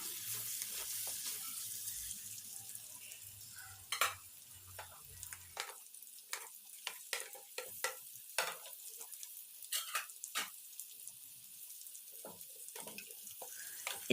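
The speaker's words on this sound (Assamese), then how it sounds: "আকৌ ঢাকনিৰে ঢাকি 5 মিনিটমানৰ কাৰণে মাংসখিনি ভাজি ল'ম।" Chicken meat fries under a lid in a pan for a chicken and wax gourd curry, a quiet, steady sizzle with scattered faint pops and clicks and a low hum that fades early on.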